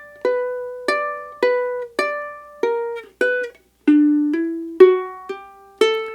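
Ukulele picking the closing measures of Waltz of the Flowers from The Nutcracker, about a dozen clear plucked notes in a steady rhythm, each ringing and fading, played close and alone.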